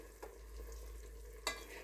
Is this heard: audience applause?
no